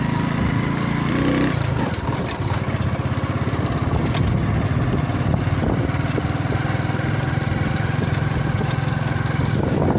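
A motorcycle engine runs while riding, a loud, steady low throbbing drone that shifts slightly after a brief dip near the start, with rushing wind noise over it.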